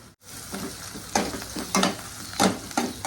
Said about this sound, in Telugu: ఆనియన్స్ మంచిగా ఫ్రై అవుతున్నాయి